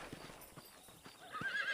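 Horse hooves clip-clop in a steady rhythm in the Western game Red Dead Redemption, ending in a brief neigh near the close, close and moderately loud with no talk.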